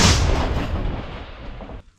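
A single heavy artillery blast from a Russian gun firing on Ukrainian positions, loud and booming, with a long rumbling decay that fades over about two seconds.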